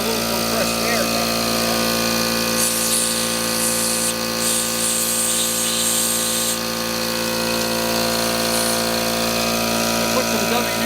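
Compressed air is blown through the fuel petcock of a 1982 Suzuki GS1100E motorcycle. A bright rushing hiss lasts a few seconds over a steady mechanical hum and then fades back to the background drone.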